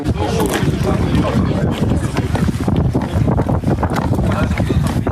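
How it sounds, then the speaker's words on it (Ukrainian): Strong wind buffets loudly and continuously, with heavy roaring gusts close by, in the Belgorod region. "Вітер, що буквально зносив з ніг"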